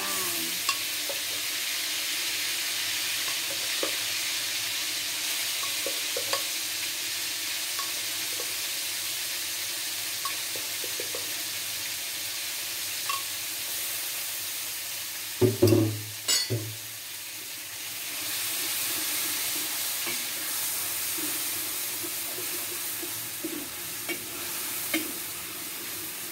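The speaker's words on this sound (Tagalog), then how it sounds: "Lagyan natin ng mantika. Tapos, ilalagay natin yung na-blender na ingredients." Blended Thai vegetable soup ingredients frying in hot oil in a home kitchen, a steady sizzle running throughout with one louder burst of splattering midway, no talking.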